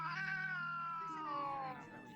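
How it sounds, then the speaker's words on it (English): A fight between cats fills the room with a sustained, loud caterwaul that slowly bends downward in pitch, heard close with a steady low hum beneath and quieter grumbling at the end. "This is a cat fight."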